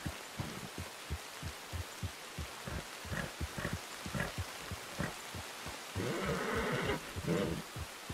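A horse in Red Dead Redemption 2 snorts and whinnies over rhythmic hoof-like thumps and rain, with a louder, breathy neigh near the end.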